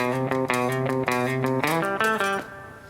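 An electric guitar plays a quick run of picked and slurred notes, including a hammer-on, rising in pitch, with a slightly distorted tone; no voices. Part of the solo from a country song.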